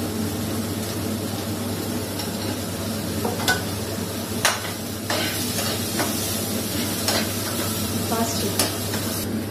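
Onions with a little salt fry steadily in a pan, a continuous close sizzle broken by occasional scraping stirs and light utensil knocks, with a brief word of speech.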